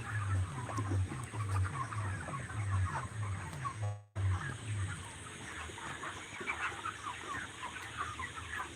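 Farm broiler chickens about 37 days old clucking together, a dense chorus of overlapping clucks and chatter heard up close, briefly dipping in the middle before resuming.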